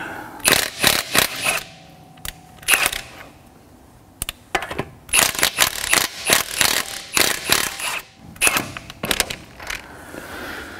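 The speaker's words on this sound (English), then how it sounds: "So I'm going to go around and break all the lugs" A tool breaking loose Loctited lug nuts on a Gen 2 Ford Raptor wheel, heard as a series of sharp metallic ratcheting clicks and clacks in uneven bursts, close and fairly quiet, with short gaps between nuts.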